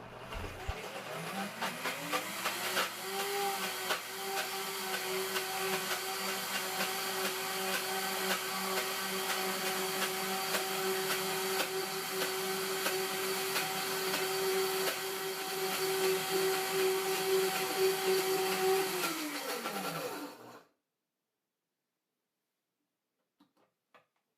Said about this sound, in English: I'm going to start off on variable speed 1 and quickly increase to the highest speed and blend for about 30 seconds.